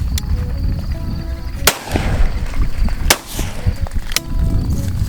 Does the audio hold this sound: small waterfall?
no